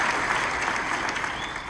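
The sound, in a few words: audience applause for the staff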